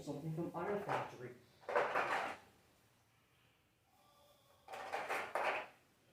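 A drawer is pulled open and rummaged through in three bursts of clattering, close scraping and knocking with quiet gaps between them.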